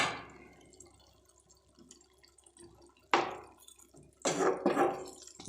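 A little water is poured into a plate in two short splashy bursts, the first brief and the second longer and louder, separated by a quiet gap with faint background noise.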